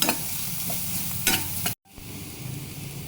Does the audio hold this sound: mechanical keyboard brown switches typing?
no